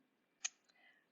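A single sharp computer mouse click, close and fairly quiet, in an otherwise quiet room, followed by a fainter second tick and a soft background murmur.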